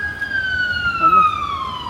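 An ambulance siren wails as a steady, loud tone that glides slowly downward while the vehicle passes, with faint background voices and street noise underneath.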